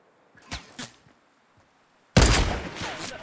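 Gunfire in the Fortnite video game: a couple of faint shots early, then a loud close burst of rapid fire near the end, with no talking.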